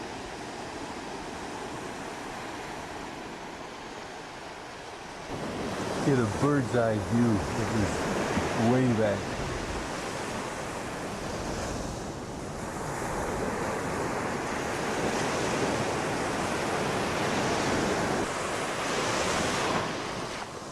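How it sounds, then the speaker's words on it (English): Surf breaking on a sandy cove where a brook flows in, a steady broad wash of waves with wind noise on the microphone, and people talking over it. "This is a nice sandy cove."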